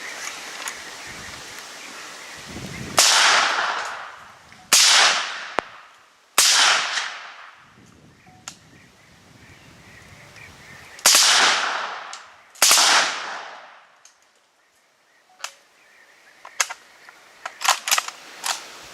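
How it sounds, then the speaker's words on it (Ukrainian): Suppressed 5.45mm AK Kalashnikov rifle fitted with a From Steel Hunter Pro silencer, compact 2023 version, fires about five loud, sharp cracks at irregular intervals, each trailing into a brief decaying ring, followed by a few light mechanical clicks, with no talking. "випробування на звук. Е, зброя у нас АК автомат Калашникова."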